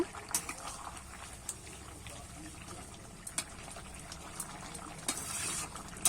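A pot of rohu fish and bottle gourd curry at a rolling boil gives a steady, faint bubbling with scattered small pops and ticks throughout.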